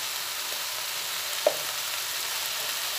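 Vegetables for a vegetarian pachon dish fry in a pan with a soft, continuous sizzle, and a single faint scrape of stirring lands near the middle; no voices.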